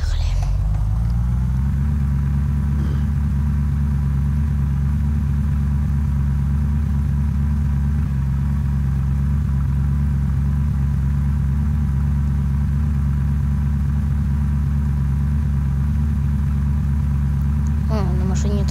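In the video game Unturned, a car engine drones steadily and loudly while driving, a low, even rumble that holds for the whole stretch with only slight changes in pitch.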